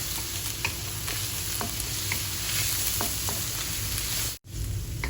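Chopped ginger and garlic frying in a pan for chilly chicken, giving a steady close sizzle with small crackles and occasional stirring, then a brief dropout near the end.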